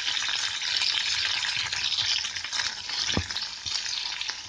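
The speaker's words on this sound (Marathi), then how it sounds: "मिरच्या चांगल्या तेलात घालायच्या" Green chillies fry in oil in a pan, a steady loud sizzle with crackling and occasional soft stirring knocks, heard up close.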